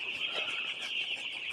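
Young broiler chickens, five days old, in a farm shed: a dense, steady chorus of chirps and clucks from many birds, close and continuous, with no talk.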